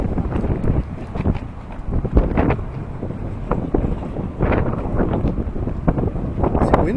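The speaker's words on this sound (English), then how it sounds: "Windy today." Gusty outdoor wind buffets the microphone during an outdoor team-building activity, a continuous rough low rumble that swells and dips, with faint voices now and then.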